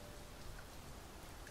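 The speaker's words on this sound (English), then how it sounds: "Mind the rain" Steady rain falls in the video game Dragon's Dogma 2, an even, continuous hiss with no talk.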